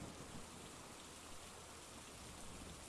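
Rain and thunder in the horror video game Phasmophobia: a steady, even hiss of rainfall with a low rumble underneath, faint and uninterrupted, with no voices.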